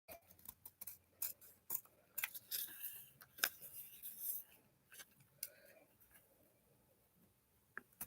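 Scissors trim a metal charm with a series of quiet, close snips and rubbing clicks in an irregular rhythm that fades out toward the end.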